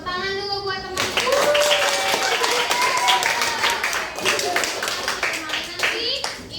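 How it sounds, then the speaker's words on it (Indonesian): A group of schoolchildren in a classroom claps hands in a steady burst lasting several seconds, with children's voices chattering over and around the clapping. "Tepuk tangan dulu buat temanku."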